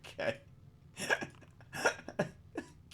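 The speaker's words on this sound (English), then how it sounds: "I'm coughing." Several hoarse coughs, four or five short bursts, spread evenly and heard close by during a tabletop Dungeons & Dragons session, with no talk in between.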